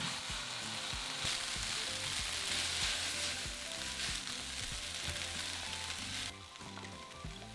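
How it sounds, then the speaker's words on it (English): Noodles stir fried with chillies and minced garlic in a hot pan, a loud continuous sizzle with rhythmic tossing and scraping strokes throughout, no voices. "Add the noodles and toss everything together for 2 minutes."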